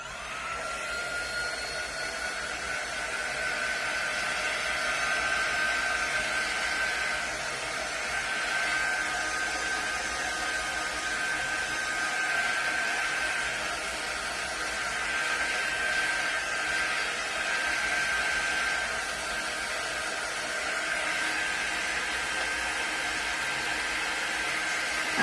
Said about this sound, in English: I'm going to quickly get my dryer over here to dry this and my little beads.